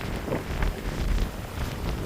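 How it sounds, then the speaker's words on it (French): Strong wind buffeting the microphone, a continuous rough rumble that swells and eases. "Le vent aussi"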